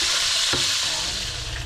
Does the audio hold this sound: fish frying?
yes